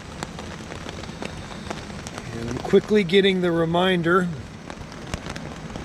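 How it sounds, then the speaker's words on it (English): Steady rain patters on a tent during a storm in a drippy coastal forest in Olympic National Park, a continuous soft hiss with scattered sharper drops, and someone speaks briefly over it midway. "It has not stopped raining"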